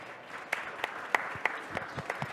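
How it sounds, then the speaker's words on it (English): A small audience claps for a finalist at the Red Bull Basement national finals at TechChill 2026, with sparse, separate hand claps scattered unevenly over a soft room murmur. "Laura Damba, applause for Laura."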